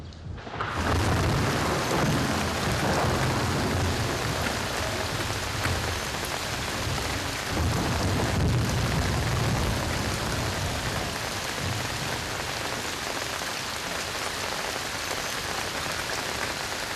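Steady, heavy rain falls continuously and close by, a dense wash of patter on surfaces with a low rumbling undertone, unbroken and loud throughout with no voices.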